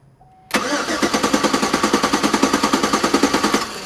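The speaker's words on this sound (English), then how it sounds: "so you can go ahead and crank it a little more." A truck engine cranks over on the starter during a fluid flush, giving a loud, steady rhythmic chugging of roughly three compression pulses per second that runs for about three seconds and then stops.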